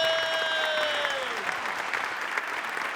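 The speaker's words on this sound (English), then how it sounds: "Everybody, a round of applause for her." A small audience applauds guest Sandra Martindale on a talk show, a steady patter of clapping that starts under a voice's fading high tone and continues alone to the end.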